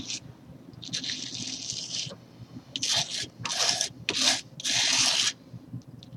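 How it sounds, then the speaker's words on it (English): Clear gesso spread across a stencil with a tool, giving gritty rubbing scrapes in several close bursts of varying length. "it may sound a little gritty on the stencil, but it's really not gritty at all"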